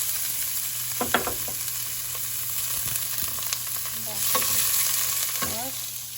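Ginger and onion sizzle in a hot pan, a steady crackling hiss broken by a few sharp scrapes of stirring, close and clear with no talk.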